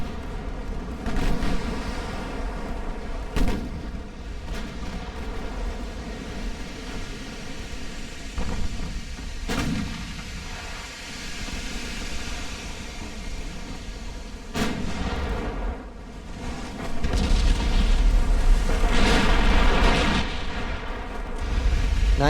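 Heavy naval guns boom from 1890-era warships in the Ultimate Admiral: Dreadnoughts naval battle game, firing nine-inch armour-piercing shells; loud deep blasts roll out at intervals over a constant rumbling wash of sea and battle noise.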